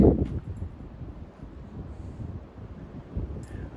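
Strong mountain wind buffets the microphone in a low, rumbling roar of about 25–30 miles an hour, steady with gusty swells, close and loud, no talking.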